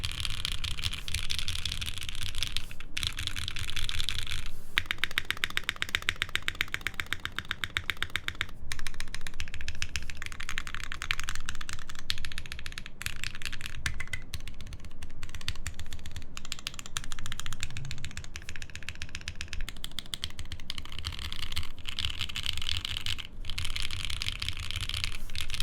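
Typing on a plateless mechanical keyboard fitted with heavily lubed linear switches, producing a steady run of soft, muted clacks with occasional short pauses, close and clear with no talking.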